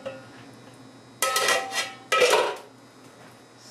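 Glass pickle jars clink and rattle in two short bursts as they are lifted out of a hot canning pot, with quiet pauses between.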